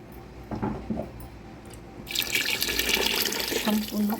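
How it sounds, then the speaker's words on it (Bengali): Boiled hot water poured into a pot of mutton for Arabic mandi, a close splashing, filling pour that builds louder midway and runs on steadily, with a voice speaking faintly early on. "এখন এখানে আমি ফুটানো গরম পানি দিয়ে দিব এতটুকু গরম পানি দিব যাতে আমার মাংসটা একদম পানির উপরে থাকে"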